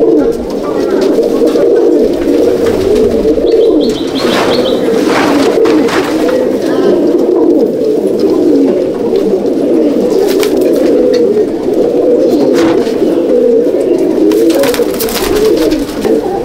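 Malbai/Panjabi pigeons coo steadily in a loft, a thick overlapping chorus of low burbling calls close by, with brief faint voices in the background.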